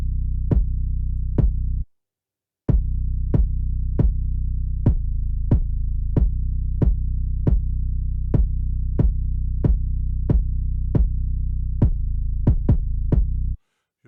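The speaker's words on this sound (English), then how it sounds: "And then I switched up the 808 pattern." FL Studio beat with a switched-up 808 pattern, deep booming bass thumps pulsing in a steady rhythm with sharp clicky transients, loud and close, with a brief drop-out near the start.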